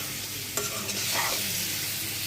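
Tomato frying in a pan: a continuous hissing sizzle with a sharp scrape or stir partway through, close and steady.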